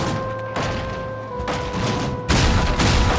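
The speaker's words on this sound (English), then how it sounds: "That was an early explosion." Explosions in the Valheim video game: three deep, booming broadband bursts at short intervals, each louder than the last, over steady tonal game music with no talking.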